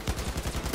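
Rapid gunfire from the video game Blood & Truth: a quick, steady train of punchy shots, roughly ten per second, close and fairly loud, with no talk over it.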